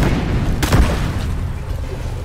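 A grenade blast in Deep Rock Galactic: one sharp, loud boom with a deep low-end thump, over a busy bed of game noise that fades quickly afterward.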